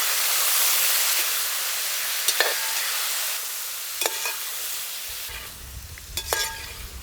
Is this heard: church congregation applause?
no